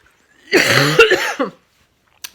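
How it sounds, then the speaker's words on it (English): A single harsh, close cough bursts out for about a second, followed by silence and a faint click. "sorry, this cough is terrible."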